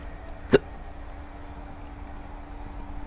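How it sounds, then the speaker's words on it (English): A single sharp hiccup, loud and close, breaks a quiet stretch with a low steady hum in the background. "I swear the hiccups are always coming in at the worst possible time"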